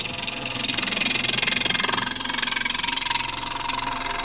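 A wood lathe spins a wooden snowman blank while a spindle or bowl gouge cuts it, giving a steady, close motor drone with a fast rhythmic chatter from the tool on the uneven wood, running continuously throughout.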